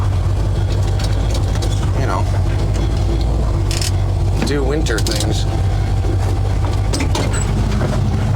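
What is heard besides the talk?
truck engine idling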